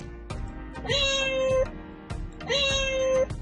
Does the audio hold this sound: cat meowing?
yes